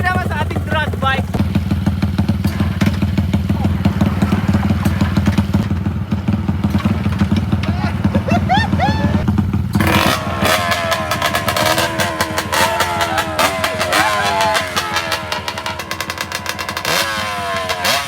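A drag bike motorcycle engine revs loudly and continuously, its harsh mechanical roar growing rougher and more aggressive after a sudden surge partway through, with a faint voice briefly present underneath.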